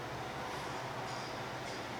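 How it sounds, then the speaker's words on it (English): A truck rolls along railroad tracks at a shooting range, making a continuous rumbling, train-like roar that stays steady and fairly loud throughout. "It's not actually a train, it's a truck going by on the tracks."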